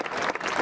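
Audience applause at a Hibriten High School graduation ceremony, a steady wash of many hands clapping at once, sustained through a short burst.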